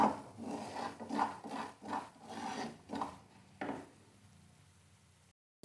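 Semolina roasting in plenty of ghee for almond halwa, stirred with a wooden spoon, giving repeated close rasping scrapes in a steady rhythm under a faint sizzle, with the scraping stopping near the end.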